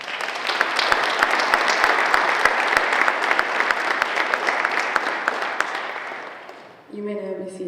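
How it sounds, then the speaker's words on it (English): A gymnasium crowd at a high school National Honor Society ceremony applauds in a dense, sustained roar of clapping with sharp individual claps standing out, dying down after about seven seconds before a voice begins speaking. "Please give a round of applause for our senior committee members."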